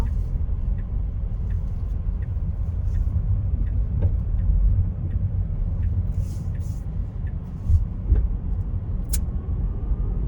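Low road rumble inside a Tesla Model S Plaid making a U-turn, a steady muffled cabin drone with a few faint clicks and ticks.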